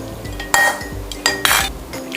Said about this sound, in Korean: 이제 그릇에 담아 보겠습니다.